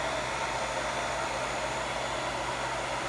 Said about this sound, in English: my hair dryer. I don't want to wait.